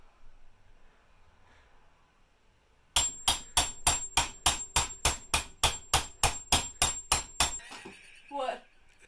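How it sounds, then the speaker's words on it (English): A hammer pounds frozen chicken about fifteen times in a fast, steady rhythm, each blow loud and close, then stops. "if you want to flatten your chicken, you just take your hammer"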